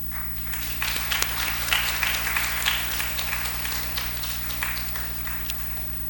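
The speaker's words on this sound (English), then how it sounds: "Kindly keep the claps going." An audience at an auspicious felicitation ceremony claps lightly and unevenly, scattered hand claps over a steady electrical hum, heard from a distance at low volume.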